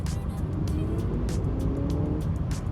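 A 2023 Honda CR-V Hybrid SUV hums steadily through corners, a low muffled cabin drone of engine and road noise with faint ticks and rustles, no talk.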